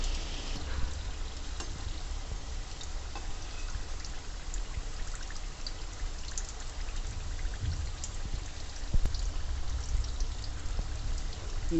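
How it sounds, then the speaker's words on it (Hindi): Sweet gunjiya dumplings frying gently in oil over a low flame, a steady, soft sizzle with faint crackles and bubbling throughout, fairly quiet and without speech. "इनको धीमी धीमी आंच पे ही हमें तलना है, तभी करारी सी बनती हैं।"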